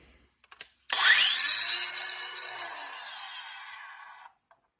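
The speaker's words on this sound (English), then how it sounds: "There's a nail hanging out that I got to grind out." A RIDGID 18V brushless 4-1/2 in. angle grinder grinds out a nail in one loud, steady burst of about three and a half seconds. It starts abruptly and winds down, with a few small clicks before and after and no talk.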